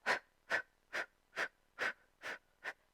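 Seven short, forceful breaths pushed out in a steady rhythm during a pelvic health workout, each a close, breathy burst with even gaps between, and no speech over them.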